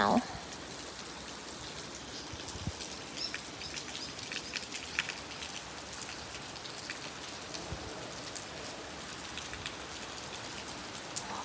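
Steady rain falls in the south of Thailand, a continuous broadband hiss of drops pattering on surfaces that holds even throughout, with faint bird calls scattered in the background.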